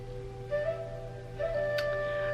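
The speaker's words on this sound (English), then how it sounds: "so mine is a meditative flute sound in the morning." Meditative flute wake-up tone from a Hatch Restore sunrise alarm: two soft, breathy held notes separated by a pause, faint and steady over a low background hum.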